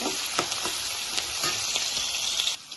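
Small onion cloves fry in a pan of hot oil in a Telugu home kitchen, giving a steady, close sizzle with a few soft stirring scrapes.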